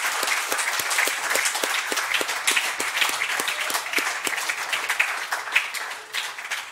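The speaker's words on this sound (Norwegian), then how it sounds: "vi tar en applaus för dig." A live audience at a hunting-stories show in Lierne gives a warm round of applause, with dense, distinct claps heard close and steady, with no talking, before fading at the end.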